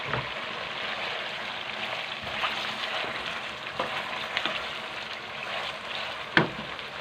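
Chicken and tomatoes frying in a karahi for Hyderabadi chicken karahi, a steady close sizzle with soft stirring clatter and a sharper clink near the end.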